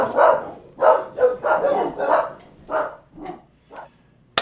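A dog barks repeatedly at close range, a run of about eight loud barks in an uneven rhythm that grows fainter toward the end, followed by a short sharp sound.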